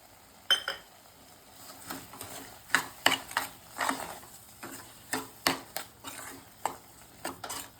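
Carrot halwa with sugar and cardamom powder being stirred in a pan over high heat, a spoon scraping and tapping the pan in irregular bursts with soft background hiss, no talking.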